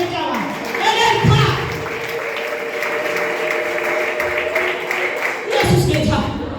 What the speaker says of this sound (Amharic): ለጌታ ሞቅ ያለ ጭብጨባ እልልታ።